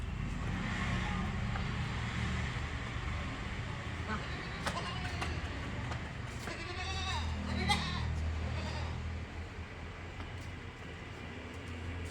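Crossbreed goats, a mother and two-month-old kids, bleat now and then amid a steady outdoor rumble, with faint voices and a passing engine-like drone in the background.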